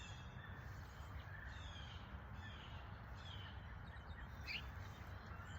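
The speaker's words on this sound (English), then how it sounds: "And so many birds, you all." Birds call outdoors, with faint, scattered caws and chirps drifting over a steady background hiss of wind and ambient noise.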